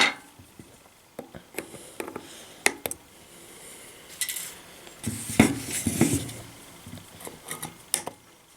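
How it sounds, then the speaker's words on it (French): Snipping excess resistance wire on an E-Phoenix Hurricane vape atomizer, a series of small sharp metallic clicks and snips with tool handling, close and fairly quiet, irregularly spaced and heard without talk. "Je vais couper le fil excédentaire."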